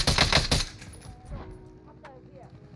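Burst of rapid gunfire from a first-person shooter video game, loud and close at the start, then fading into quieter game ambience with faint distant effects.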